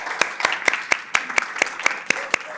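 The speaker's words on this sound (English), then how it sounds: "So a huge round of applause to all of you." Audience applause at a community supper gathering, heard as a steady run of distinct, evenly spaced claps, fairly close and sparse, like a small group or a few people clapping together, with no talking over it.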